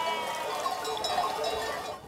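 A herd of goats on a shepherds' transhumance route in Rhône-Alpes, with bleats and clinking bells mixed in a busy close outdoor wash.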